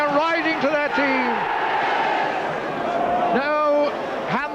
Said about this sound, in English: The crowd roaring and rising to their team.